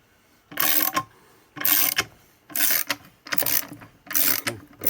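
A hand ratchet cranks a press to seat a ball joint on a Mopar suspension, heard as five bursts of rapid clicking, each about half a second long and separated by short pauses, close and fairly loud with no talk.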